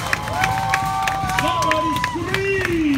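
A lively crowd at an outdoor Samoan tree-climbing show claps and cheers, with rhythmic handclaps, shouts and a few rising whoops blending into a busy, energetic din.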